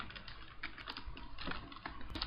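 Rapid typing on a computer keyboard, dense close clicking keystrokes in quick bursts throughout, fairly quiet and with no speech.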